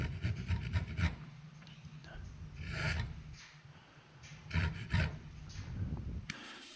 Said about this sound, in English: So I'm just going to cut a little notch out.